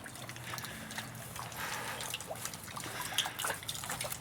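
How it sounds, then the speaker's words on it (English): Water trickles and drips through a hole in river ice in spring, a soft irregular patter of drops and small splashes close by, with no voices. "Ice is water dripping down, big hole right there in the ice"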